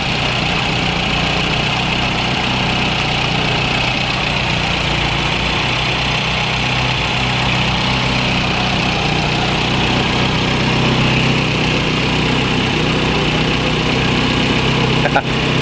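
A 1980 VW Rabbit Pickup engine idles steadily up close with the hood open during a coolant flush, a continuous mid-low rumble running throughout with faint voices in the background.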